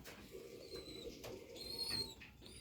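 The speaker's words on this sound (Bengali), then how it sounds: "এটা একটা মাক্সি কবুতর" A Maxi racing pigeon in a loft gives soft, faint cooing, low murmuring calls rising slightly toward the end, with no talking.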